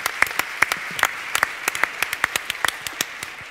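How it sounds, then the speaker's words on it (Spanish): Sparse hand clapping from a small group, uneven individual claps ringing out at close range without a steady rhythm. "por eso mi aplauso a todos ellos, a todos los estudiantes"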